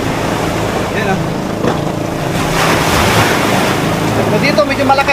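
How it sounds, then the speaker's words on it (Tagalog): Loud surf of strong ocean waves crashing and churning continuously, with wind buffeting the microphone and a voice briefly heard. "So dito medyo malakas yung alon ngayon."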